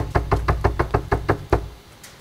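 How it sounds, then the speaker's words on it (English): Nine steady, evenly spaced knocks on a wooden door in the horror video game The Quarry, close and clear, ending in silence. "All right, we'll try the door."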